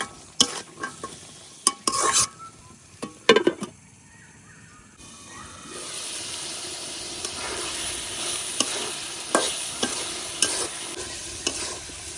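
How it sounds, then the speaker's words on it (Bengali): Dried fish and jackfruit seeds are sautéed in a pan, with a few loud scraping stirs up front, then a steady, close hissing sizzle broken by more stirring strokes. "শুটকি আর কাঁঠালের বীজটারে এই যে খুব ভালো করে কষাই নিছি।"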